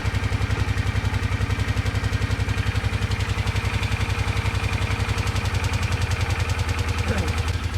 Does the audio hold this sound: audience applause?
no